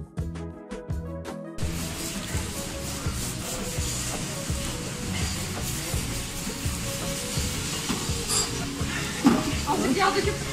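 Potatoes going into a pan during a home cooking lesson, with steady sizzling and frying, clattering utensil and pan contact, and stirring throughout; talk is faint or absent.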